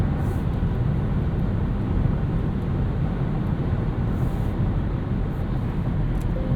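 A 2021 Nissan Rogue SL with a 2.5 liter engine accelerating on the road, a steady broadband drone of engine and road rumble heard from inside the cabin, constant and fairly loud with no talking over it.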